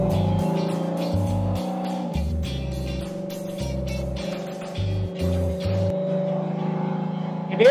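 An RV cruising on a highway, its engine droning steadily with low rhythmic pulses as it shifts smoothly up through the gears, rising in pitch near the end.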